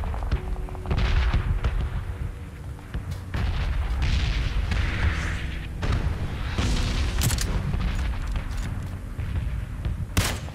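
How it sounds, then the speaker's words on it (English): PUBG gunfire crackles in a busy, continuous stretch of rapid shots and booming reports, some near and some distant, with no voices over it. "Somebody's shooting at me."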